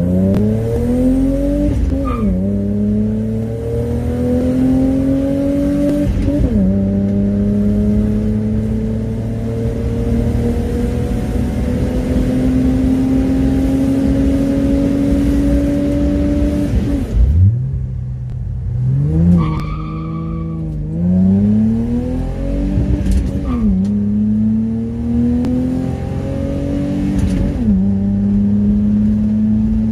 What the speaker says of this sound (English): So we're just going to do some draggy pulls now with the car,